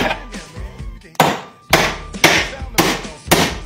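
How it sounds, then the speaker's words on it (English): A hammer drives a nail with five loud, close blows that grow steadier after a softer opening, each a sharp knock with a short ring. "take this hammer and you can set the nail in there"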